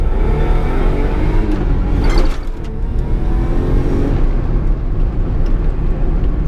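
A car engine, idling in first gear, is pushed into sharp acceleration: a loud, close engine roar that climbs in pitch and strains under load, then drops back and settles to a lower, rougher running drone.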